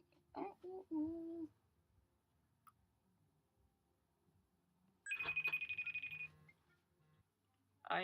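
A phone ring tone plays alone for about a second, a steady warbling burst at moderate loudness, with brief voice-like sounds heard just before it.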